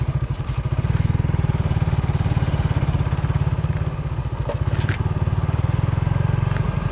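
Motorcycle ridden over a damaged, uneven road past a housing estate, its engine thrumming steadily up close while the frame and loose parts rattle and clatter over the bumps.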